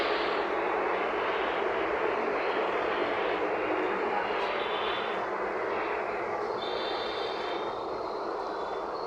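A steady broad rushing roar of a passing MRT metro train holds for the whole stretch with faint higher squeals, no voices.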